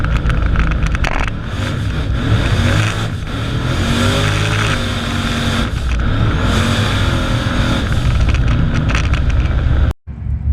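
A Trans Am no-prep drag car roars loudly and steadily close by as it launches and loses traction, the engine note rising and wavering over about ten seconds before cutting off abruptly.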